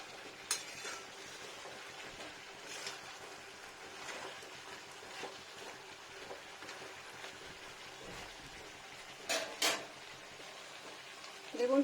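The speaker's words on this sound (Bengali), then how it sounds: "চিকেনটাকে আঁচটা স্লো করে করে বানিয়ে নেব দেখুন" Chicken kosa cooking slowly on low heat in a pan, with steady soft sizzling and occasional scraping stirs and utensil clinks against the pan, close and fairly quiet throughout.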